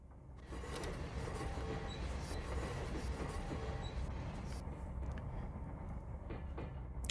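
A Victorian Railways steam train rolls along in the Trainz game, a steady, loud rumble of wheels and running gear with faint clickety-clack and squeal touches, continuous for several seconds.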